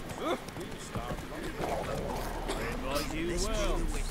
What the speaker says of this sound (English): Let's get onto the horse.